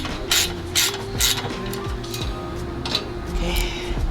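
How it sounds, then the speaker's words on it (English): A ratchet wrench tightens the intercooler mounting bolts on a Subaru WRX during a front-mount intercooler install, giving rapid clicking pawl bursts at close range alongside creaks and metallic clunks. "then you just tighten down one at a time"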